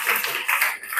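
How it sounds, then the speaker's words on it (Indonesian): A class applauds a student group after their product marketing presentation, a dense run of clapping from many hands at moderate loudness through the whole moment, no voices over it. "Oke, tepuk tangan untuk kelompok 3."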